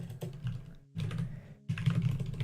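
Fast, close clatter of typing on a computer keyboard comes in three quick bursts split by short pauses, no speech.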